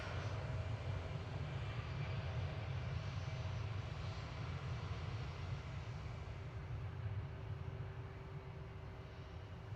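An American Airlines airliner rolls for takeoff at DFW, heard as a steady, distant low roar of jet engines that holds evenly and fades slightly toward the end, with no talk.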